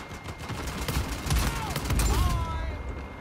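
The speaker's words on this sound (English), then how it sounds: "I shot him with a condor to his face and it only took 92 health off him" Gunfire rattles in an Uncharted multiplayer match, a quick run of shots under mixed game noise with a couple of faint whooshes trailing off at the end.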